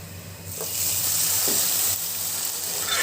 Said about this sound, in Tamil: அதை தூக்கி இதில் ஊற்றி நல்லா கொதிக்க விடணும்